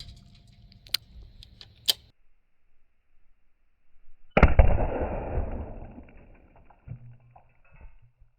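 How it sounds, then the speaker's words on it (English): A .308 Win rifle fires an AAC Sabre Blade Black Tip round at a cinder block, one sudden heavy blast that decays into a rumbling tail, preceded by a couple of faint clicks and followed by a softer thud. "Last shot of the day, the Sabre Blade Black Tip versus cinder block."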